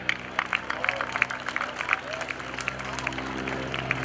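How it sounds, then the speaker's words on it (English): An outdoor airshow crowd applauds pilot Bill Leff, scattered distant clapping spreading across a wide open space while a voice talks over it. "You're getting some good applause on that one"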